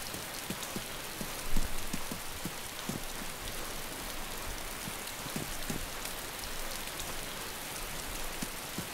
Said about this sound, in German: Jetzt regnet es wieder.